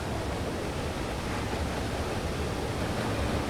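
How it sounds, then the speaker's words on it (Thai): Waterfall in the dark puzzle-platformer game Limbo, a constant, loud broadband rush of falling water that holds steady throughout with no voices over it. "มีน้ำตกครับทุกคน โอ้เสียงดังมาก"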